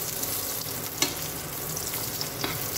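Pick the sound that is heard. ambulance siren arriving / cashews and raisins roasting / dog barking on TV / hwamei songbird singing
cashews and raisins roasting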